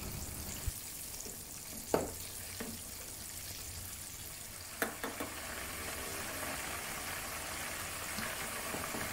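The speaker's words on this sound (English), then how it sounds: "Deep fry the wings at this low temperature for about 5 minutes." Chicken wings for Korean dakgangjeong deep-fry in oil at a low temperature with a steady, even sizzle throughout, broken by a few soft knocks and clinks.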